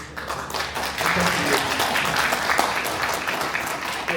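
An assembly at a Buddhist literary society meeting claps together to approve its rules, a sustained, even round of applause from a crowd in a hall, with some talk mixed in.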